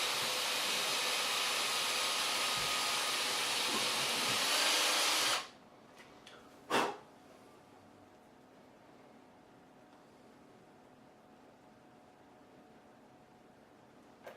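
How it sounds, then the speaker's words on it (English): A loud, steady drill whirs for several seconds while boring tuner holes in an electric guitar headstock, then cuts off, followed by one brief burst and quiet room noise. "I'm going to drill these holes and we're going to get these tuners in."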